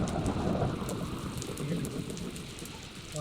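Heavy rain in the Minecraft video game, a dense steady hiss of falling water with scattered droplet ticks, at moderate level without speech.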